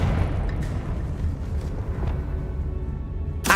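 The Confringo explosion spell in the video game Hogwarts Legacy sets off a deep, rumbling blast that rolls on with a heavy low roar, ending with a sharp crack.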